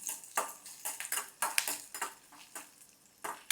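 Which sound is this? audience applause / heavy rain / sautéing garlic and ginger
sautéing garlic and ginger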